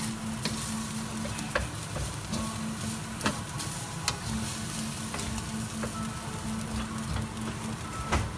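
Beef fried rice made with white jasmine rice being stir-fried in a pan, with a constant close sizzle and frequent sharp scraping and tapping of the utensil as the rice is stirred and lumps crushed.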